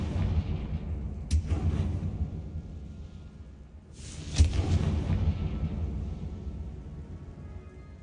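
Confringo fire spell exploding in the Hogwarts Legacy video game: two sharp blasts a few seconds apart, the second louder and followed by a rumbling tail over a low ambient game background.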